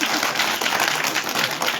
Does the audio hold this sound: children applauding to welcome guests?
yes